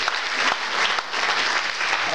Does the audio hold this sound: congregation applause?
yes